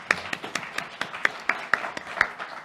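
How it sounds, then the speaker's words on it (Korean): A church congregation at a Sunday worship service gives a short round of clapping in encouragement. The claps come as a loose, sparse series of distinct hand claps at moderate volume, fairly close, with no talk over them. "서로를 격려하는 의미로 박수 한번 할까요?"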